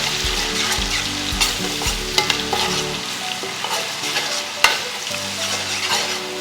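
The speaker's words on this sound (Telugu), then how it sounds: "సో ఇది కూడా పచ్చివాసన పోయే వరకు ఫ్రై చేసుకోవాలి." Spice paste fries in a pot for chicken curry with a loud, close, continuous sizzle, broken by stirring scrapes and a few sharp clicks of a spoon against the pot.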